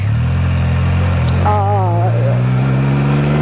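A motorbike idles at a traffic light, its engine rumble loud and steady close by, while someone talks over it throughout.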